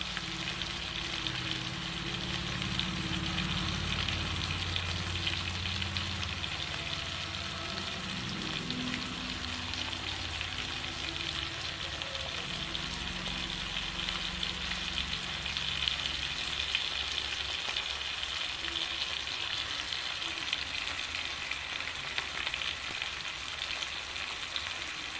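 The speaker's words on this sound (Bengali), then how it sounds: "ভালো করে এগুলো ভেজে নিতে হবে লাল লাল করে।" Garlic, chopped onion and coriander leaves fry in oil in a pan, a steady, moderate sizzle that continues evenly throughout with a low background rumble and no speech.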